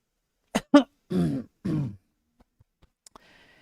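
A person clears their throat with a couple of sharp grunting bursts, then gives two longer rough coughs, close and distinct against near silence, followed by a few faint clicks.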